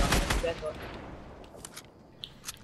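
A minigun in a video game fires a loud, dense burst at the start, then trails off into fainter distant shots, with players talking over the action.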